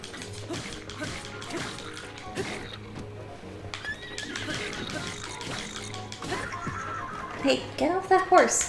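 Horse from the video game Breath of the Wild whinnies and neighs near the end, with faint clip-clop of hooves and game effects earlier, under a player's voice.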